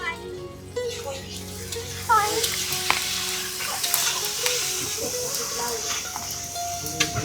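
Food fries and sizzles on a clay stove with a steady hiss and occasional stirring scrapes, while people chat nearby and a voice is heard.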